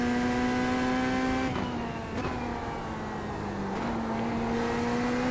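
A race car engine in the iRacing game at Brands Hatch holds a steady high drone under throttle, dipping briefly with gear changes, loud and close with no talking.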